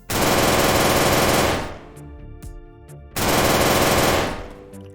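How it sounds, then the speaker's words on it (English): A giant machine gun weapon firing in the video game Isometria, two long loud continuous bursts of rapid fire separated by a short gap with ringing tones. "overall it's just a giant machine gun"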